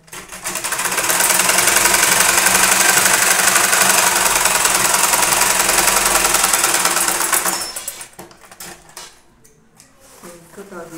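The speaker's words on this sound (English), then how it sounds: "You sew it down the lining." Sewing machine stitching down the lining of a fabric tote bag, a loud rapid steady whir for about seven seconds that stops abruptly, followed by quiet handling clatter.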